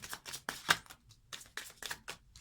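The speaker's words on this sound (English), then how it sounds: "Last shuffle." Cards being shuffled close up in a few quick riffling bursts, crisp fluttering snaps separated by brief pauses.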